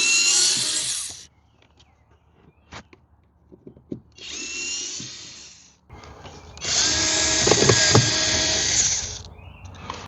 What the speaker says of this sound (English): So now we'll remove these screws.